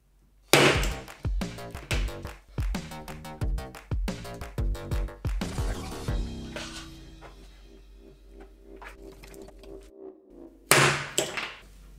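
A glue-on dent puller on Ferrari bodywork, screwed down and pressured, producing a rapid series of sharp ratcheting clicks and knocks, then a ringing resonant pull, a quieter pause, and a final loud snap.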